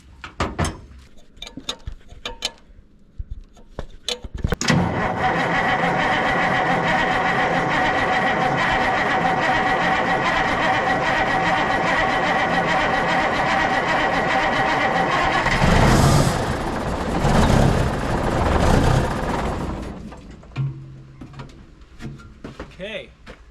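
A Kenworth W900A truck's diesel engine, restored over months, cranks after a few clicks and clunks, catches and runs loud and steady at close range for about ten seconds, then revs up, falls back and shuts off, with people talking afterward.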